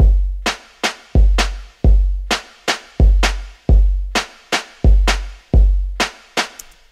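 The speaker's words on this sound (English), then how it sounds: "If I play the kick and snares, they sound like this." Breakbeat drums at 130 BPM: punchy kick and sharp snare hits in a syncopated, evenly spaced pattern, loud and dry with nothing else playing.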